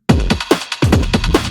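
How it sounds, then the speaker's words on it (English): A punchy drum loop plays alone, with kick and snare hits in a quick, steady groove, loud and close. "I made a drum loop that sounds like this."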